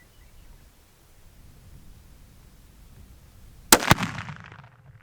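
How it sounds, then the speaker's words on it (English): Quiet outdoor hiss, then a sharp, loud blast as a rifle shot sets off Tannerite, with a second crack right after it, followed by a rumbling tail that fades. "that was an explosion"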